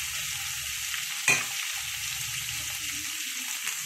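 Fish sautéing in a hot pan gives a steady, close sizzle and crackle throughout, with one brief sharp clink of a utensil partway through and no talking.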